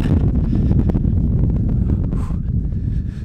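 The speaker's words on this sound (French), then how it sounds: "il y a un petit vent" Wind buffets a microphone outdoors at an old NATO military base, a loud, continuous low rumble with no talk over it.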